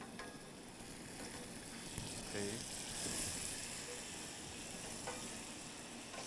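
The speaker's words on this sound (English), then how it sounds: "Sizzling." Jalapeno sizzling in a pan with melted butter, a steady crackling fry throughout, fairly quiet, with light stirring scrapes and a short spoken word over it.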